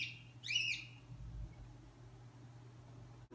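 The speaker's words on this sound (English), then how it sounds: "My birds are screaming." Pet birds let out a single loud, shrill scream near the start, then only a low steady hum remains for the rest of the stretch.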